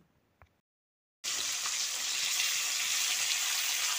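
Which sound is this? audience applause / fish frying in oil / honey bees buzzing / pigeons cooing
fish frying in oil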